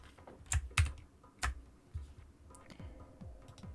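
Keystrokes on a computer keyboard entering a shortcut: a handful of separate, fairly close clicks and soft thumps spaced irregularly over a few seconds, with no talking.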